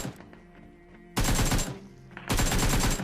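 Gunfire from the mobile video game PUBG Mobile: two loud bursts of rapid shots, each lasting about a second, after a quieter stretch of game ambience.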